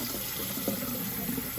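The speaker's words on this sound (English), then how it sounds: "Now we're just gonna wash it, this filter, and we're gonna put it back in." Running water rinses a washing machine drain filter under a faucet, a steady loud rushing splash that holds throughout without pauses or talking.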